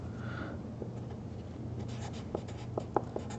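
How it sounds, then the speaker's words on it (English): Pen or pencil writing notes on paper, faint scratchy strokes and light taps close by in a quiet room with a low background hum. "so let's write that down"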